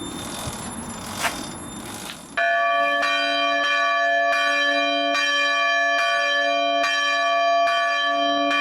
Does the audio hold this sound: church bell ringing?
yes